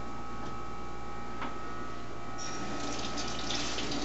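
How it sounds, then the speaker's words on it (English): Running tap water streams steadily over a peeled egg as leftover shell is rubbed off, a continuous close splash at a sink that brightens toward the end, with no talking. "and rinse it under water."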